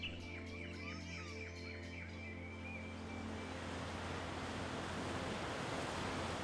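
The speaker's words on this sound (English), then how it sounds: "listen to the waves" Ocean surf rolls onto a rocky Irish coast in a steady, full roar with wind noise, while a few bird calls chirp briefly near the start.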